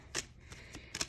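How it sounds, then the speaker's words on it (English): Tarot cards being shuffled by hand in three quick, soft riffling bursts, close and fairly quiet, with no talking. "I'm not even going to bother continuing to shuffle, because you got these right away."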